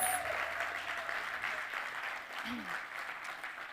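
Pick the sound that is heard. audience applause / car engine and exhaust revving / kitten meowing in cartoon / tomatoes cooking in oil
audience applause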